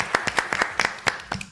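Brief applause from a small studio audience, about a dozen crisp, separate claps over a second and a half.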